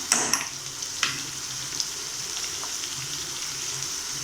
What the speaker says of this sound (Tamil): அப்போ சீக்கிரமாக வெங்காயம் நமக்கு நல்லா வதங்கி கிடைக்கும்.